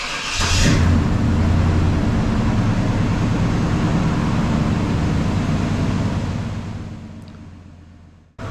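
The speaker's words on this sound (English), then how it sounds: "we're going to uncover the cars and get them fired up" A Fiat 124 engine cranks and fires up after sitting through the winter, then settles into a steady, fairly loud idle that runs close by and drops away sharply near the end, with no talk over it.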